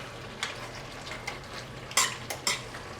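Diced tomatoes sizzle quietly in a pot of game day chili under a soft frying hiss, with a few clinks from stirring.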